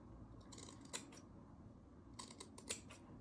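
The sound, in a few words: scissors trimming the corner seam allowances of fabric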